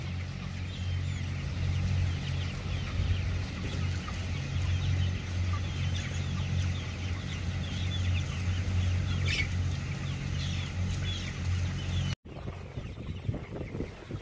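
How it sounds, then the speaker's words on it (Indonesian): Chickens in a poultry house cluck and murmur steadily as a dense flock over a constant low fan or machinery hum, with the sound cutting off briefly near the end before the clucking resumes more faintly. "Kondisi seperti inilah yang kita harapkan, di mana ayam merasa nyaman dan mampu mengkonsumsi pakan dan minum dengan baik"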